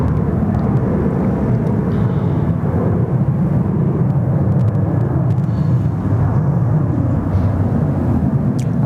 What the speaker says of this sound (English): Jetstar A321 Neo. Just on short final here for runway 34 right.